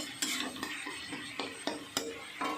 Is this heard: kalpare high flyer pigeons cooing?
no